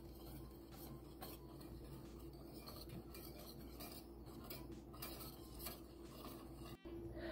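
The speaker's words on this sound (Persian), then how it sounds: "حالا مواد رو با هم مخلوط می‌کنیم تا صاف و یه دست بشه." A chocolate dessert mixture, Danette-style, is stirred in a pot with a utensil, giving a steady, continuous scraping and clinking of metal against the pot at close range, with no talk.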